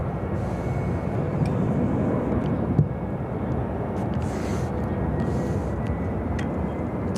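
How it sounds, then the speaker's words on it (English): An All Nippon Airways Boeing 777-300ER from Tokyo Narita passing over Chicago O'Hare airport, a steady, loud, broadband jet roar that holds constant throughout, with some wind noise mixed in. "It's All Nippon Airways Flight 12 flying over the airport."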